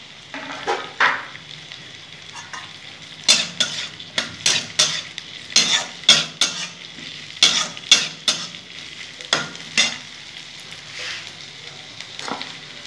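Onions, green chillies and a dried chilli sizzle in fish oil for an eggplant dish, with a steady background fry under repeated sharp scrapes and clinks of a spatula stirring the pan.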